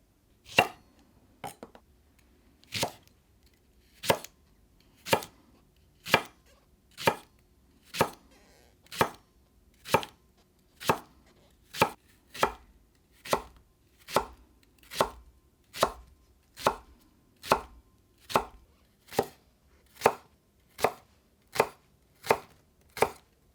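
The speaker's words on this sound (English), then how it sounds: "Cut the green onion diagonally." A knife slices a green onion diagonally on a cutting board, making about two dozen crisp, evenly spaced chops at a steady rhythm, close and clear against near silence.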